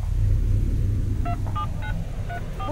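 Telephone dialing tones beep in a short series of separate keypresses, each a brief two-tone blip, over a constant low rumble like a running vehicle.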